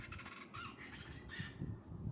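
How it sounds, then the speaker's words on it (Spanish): A chachalaca, the wild chicken of Tabasco and Veracruz, calls in repeated harsh, honking bursts that carry over a low rumbling outdoor background in the woods. "esa es la cuichi, gallina salvaje. O bien chachalaca le llaman en Tabasco, Veracruz."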